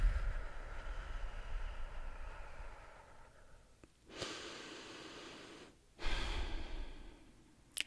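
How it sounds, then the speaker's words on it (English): A person takes slow, deep breaths close to the microphone: a long exhale fades out, then two full, airy inhales follow with a short pause between them. "let's take a few deep breaths"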